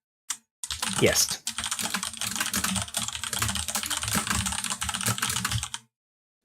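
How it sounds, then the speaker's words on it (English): Rapid, continuous clatter of typing on a mechanical computer keyboard, close and fairly loud, with a brief spoken word at the start. "It's a mechanical keyboard, but I also put filters on my mic, so it sounds a lot louder than it is."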